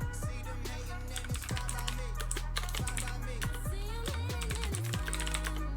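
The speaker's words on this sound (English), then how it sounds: "I was just typing Gladius test as one word." Rapid typing on a computer keyboard, with dense, close clicking keystrokes running continuously and a constant low hum beneath.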